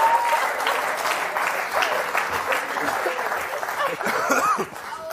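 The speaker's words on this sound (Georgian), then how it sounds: "აპლოდისმენტები" An audience on a Georgian comedy contest show claps in a dense, sustained burst of applause with a few chuckles mixed in, fading slightly at the end.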